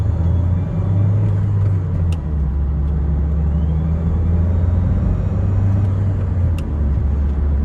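Steady low engine rumble and road noise from inside a Nissan X-Trail driving along at an even pace, with faint clicks and rattles.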